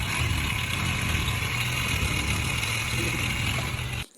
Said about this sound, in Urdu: ٹائمنگ چین بہت ہی زیادہ آواز کر رہی ہے